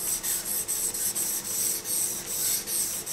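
A Ka-Bar KA4065 Dozier knife blade scraping back and forth over a 1000-grit Japanese water stone, a steady close rasping rub in quick repeated strokes with short pauses between passes, no voices.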